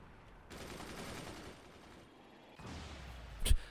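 In the fort-building game Forts, weapons fire in faint bursts of rattling shots, then one sharp, louder impact strikes a structure right at the end.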